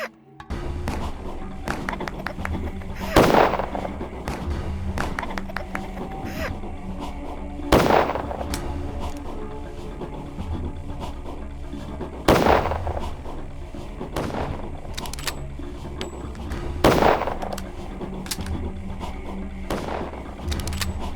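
Gunfire in the video game Pathologic: four sharp, loud shots spaced roughly four to five seconds apart, each a sudden crack over a low murmuring game background.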